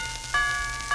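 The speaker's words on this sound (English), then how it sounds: "Oh, that was the doorbell." A doorbell rings indoors in an old radio comedy scene, two bright sustained chime tones, the second starting near the end, clear over faint background hiss.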